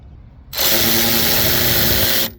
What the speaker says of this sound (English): now we can remove this bolt that holds this bracket down